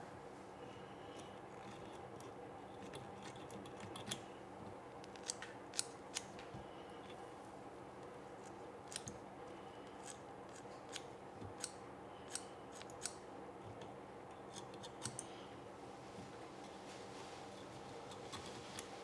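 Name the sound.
sharp scissors trimming fly-tying fibers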